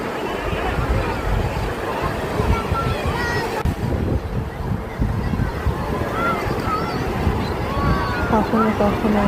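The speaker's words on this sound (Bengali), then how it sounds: "বড় বড় ঢেউ আসছিল মাঝে মাঝে।" Sea waves at Puri beach, a steady loud wash of surf mixed with wind noise on the microphone and a background babble of people throughout.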